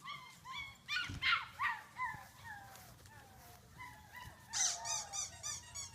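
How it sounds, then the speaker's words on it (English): Five-week-old British Labrador puppies yip, bark and whimper in a busy chorus of high, overlapping cries, close by, rising and falling in short bursts. "listen to Cassie's litter"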